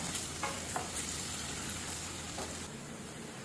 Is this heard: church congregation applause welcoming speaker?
no